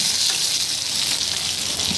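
Fish pieces fry in a pan with a steady, bright sizzle that holds an even level from start to finish, close and continuous, with no talking.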